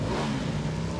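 Motorbike engine in PlayerUnknown's Battlegrounds running at a steady, close drone with a low hum throughout, briefly, with no talk over it.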